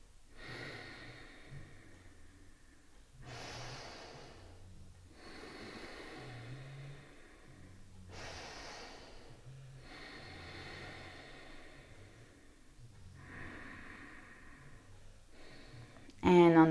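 Slow, deep yoga breathing, with long airy inhales and exhales into the belly alternating in a steady rhythm, close and fairly soft, joined by faint low murmurs between breaths.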